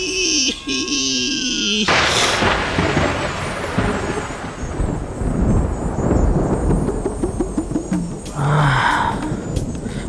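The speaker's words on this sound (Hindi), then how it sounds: "बिजली कड़की है।" A sharp crack of thunder breaks in after a tonal passage and then rolls into a loud, rumbling wash with rain-like noise, fading toward a few brief tonal effects at the end.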